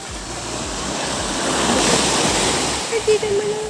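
Broad surf wash from sea waves on a beach swells and fades steadily, with a voice briefly heard near the end.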